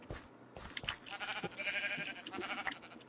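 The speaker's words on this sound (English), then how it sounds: "Now, where are you, stupid sheep?" Sheep in Minecraft bleat in several short, wavering, nasal calls, close and fairly loud, clustered together over a few seconds with no talking.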